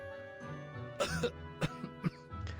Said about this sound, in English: only to be brought back by deliberate and expectant cough